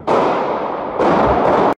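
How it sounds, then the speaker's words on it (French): Police gunfire inside Paris's Gare du Nord train station: a loud, sustained crackling burst of rapid bangs, continuous for under two seconds with a brief dip then a second surge, no voices. "des coups de feu tirés dans la gare du Nord ce matin"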